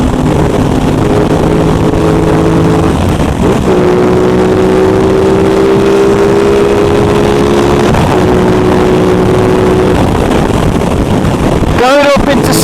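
Aprilia RS660 motorcycle engine drones steadily at riding speed on a highway, pitch climbing through gear changes, heavily buffeted by wind roar across the helmet microphone.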